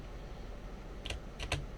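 Three quick, quiet keyboard key presses, two close together near the end, over a faint background hum while playing Fishing Planet.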